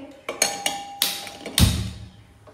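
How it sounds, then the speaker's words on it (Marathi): A few sharp metallic clanks and taps of a metal pot being set down on a gas stove, ending with a heavier resonant thud. "पोह्यांची खीर बनवण्यासाठी मी तर गॅसवर एक पातेलं ठेवते"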